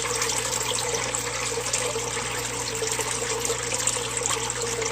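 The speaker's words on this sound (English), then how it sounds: "rinsing these 9 sponges does about a 2-hour chore" Filter sponges from a backyard guppy pond are rinsed under running water: a continuous, close, even gush and trickle of water with no pauses.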